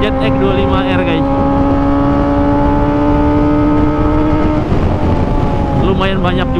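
A Kawasaki ZX25R motorcycle fitted with an Arrow Pro Race exhaust runs loud and close, holding a steady, buzzy engine drone that shifts pitch partway through as the revs change.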